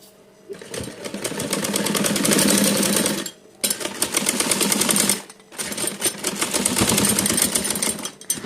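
A sewing machine stitches a frock in three long, loud runs of rapid needle chatter, with short pauses between them and no talking.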